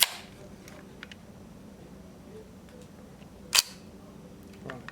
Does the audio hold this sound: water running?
no